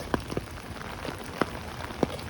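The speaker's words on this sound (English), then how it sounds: "I saw the rain, and I love a good walk in the rain." Rain falling during a street walk in Howard Beach, Queens, New York City: a steady wash of rainfall with scattered individual drops tapping sharply nearby at irregular moments, no talking.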